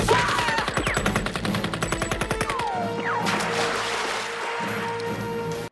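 AK-47 automatic gunfire in a Rambo: First Blood Part II film scene: a loud, rapid stream of shots for about three seconds, then a steady backdrop of tones and rumble.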